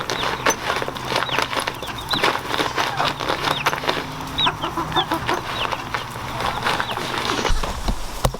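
Backyard chickens clucking and chattering around a feeder, many short overlapping clucks and squawks, close and lively, with rustling and shuffling in the background.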